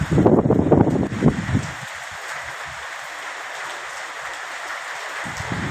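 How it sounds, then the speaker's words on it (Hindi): Heavy rain falls across a park with swings, a steady broadband hiss that runs throughout, with a louder burst of rustling noise in the first second or two before it settles into an even wash. "बारिश भी खूब हो रही है"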